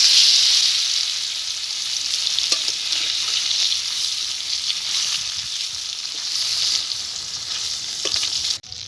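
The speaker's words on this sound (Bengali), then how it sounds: "আমি মাছটাকে ভেজে নিচ্ছি" Fish sizzles steadily in hot oil, a dense, continuous crackling hiss that stays loud and close throughout, with a few brief pops and no voices, cutting off abruptly just before the end.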